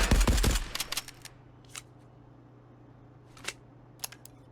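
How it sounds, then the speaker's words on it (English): An M1A1 Para submachine gun in Marauders hip-fires a fast burst of close, loud shots, followed by a few isolated single shots spaced out over the next seconds against a low background hum. "M1A1 Para. Hip firing, no recoil control. Hip firing with recoil control."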